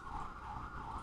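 A faint, distant emergency vehicle siren wails steadily outdoors in New York, heard through an apartment window, a thin continuous tone heard briefly with no talking.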